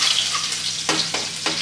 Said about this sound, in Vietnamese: ta bắt đầu phi hành mỡ và xào gạch cua. Đó, ta bắt đầu bỏ hành vô phi.